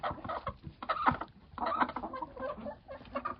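Chickens clucking softly while pecking at food nearby, a cluster of short, irregular clucks and scratchy pecking sounds.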